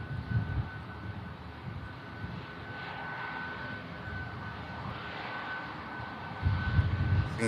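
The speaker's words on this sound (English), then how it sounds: "Singapore lined up and spooling up those engines." A Singapore Airlines jet lined up on the runway at Manchester Airport spools up its engines, giving a steady, distant roar with a rising whine that swells toward the end.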